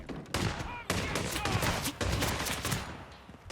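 Rapid gunfire bursts from the Hitman 3 video game, dense and loud throughout with brief gaps, mixed with game sound and excited voices talking over it.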